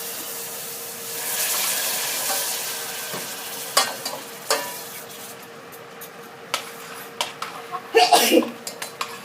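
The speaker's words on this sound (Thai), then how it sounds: "นี่ก็จะเติมน้ำน้ำลงไปนะคะ" Shallots frying in a hot pan as water is poured in, giving a steady sizzle with stirring and sharp clatters of utensil against pan, a louder burst near the end; someone speaks over the cooking.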